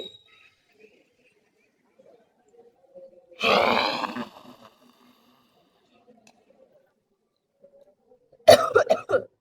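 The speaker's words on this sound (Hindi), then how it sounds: "आपको ऐसे खांसी आ सकती है, बहुत ही नॉर्मल है." Two bursts of coughing in a quiet room, one harsh and throaty, then a short rough cough a few seconds later.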